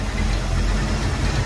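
An 87–93 Ford Foxbody Mustang engine idles steadily, a dense low rumble close by with no voices over it.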